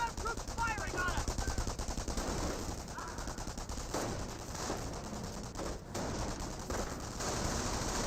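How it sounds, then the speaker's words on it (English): Dense sustained automatic and rifle gunfire from troops in the World War II strategy game Company of Heroes, steady rattling bursts throughout with overlapping shots and brief in-game voice callouts. "We have ground troops firing on us!"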